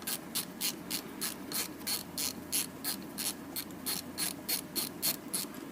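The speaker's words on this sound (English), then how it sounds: "I'm using a Ultra Pro stud extractor to remove the studs here" An Ultra Pro stud extractor ratchets steadily as it backs studs out of a 2009 Pontiac Torrent throttle body, giving quick, evenly paced clicks throughout, close and moderately quiet, with no talking.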